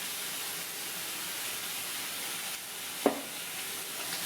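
Ground coconut, cumin and onion paste hits hot oil and sizzles, a soft continuous hiss with a single sharp clink near the end, faint and unaccompanied by speech.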